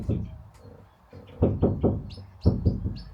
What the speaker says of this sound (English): Just doing a quick knock test from the inside.